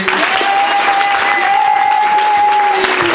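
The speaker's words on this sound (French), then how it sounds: "Nous acclamons Jésus-Christ." A church congregation applauds loudly and steadily, with dense clapping filling the room and a sustained voice or tone carrying over the crowd.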